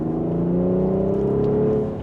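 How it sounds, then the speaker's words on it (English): A BMW X5 with an M Sport exhaust idles with a steady, deep exhaust note and hums with a slight rise in pitch, loud and close, with no talking. "the M Sport exhaust definitely sounds good"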